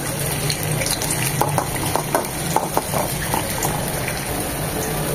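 Chopped onion frying in hot soybean oil, crackling loudly and steadily with scattered spatula scrapes and taps.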